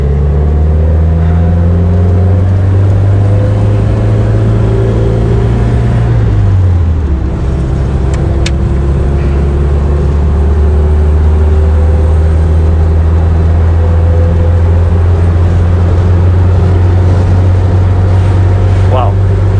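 A 1960 Warszawa 201P pickup drives at about 80 km/h, its engine droning loudly and close with a steady low hum that drops in pitch after a gear change, accompanied by road and wind noise.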